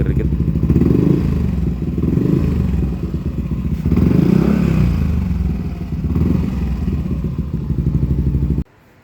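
Yamaha Nmax Neos scooter fitted with a Krace aftermarket exhaust, revved in short blips while stationary, a deep loud throbbing engine note rising and falling in three swells before cutting off abruptly, heard close up.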